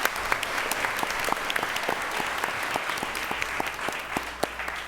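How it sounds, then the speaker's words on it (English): Attendees at a school board meeting give a warm round of applause, many hands clapping steadily at close range, with crisp individual claps standing out over a continuous patter. "One more big round of applause for him, please."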